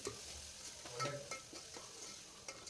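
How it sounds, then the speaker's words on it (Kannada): Tomato bath masala stirred and fried in a pan, a quiet sizzle with soft scraping strokes of a spoon at irregular intervals, close and with no voices. "ಎಲ್ಲ ನೀಟಾಗಿ ಫ್ರೈ ಮಾಡ್ಕೊಳ್ಳಿ"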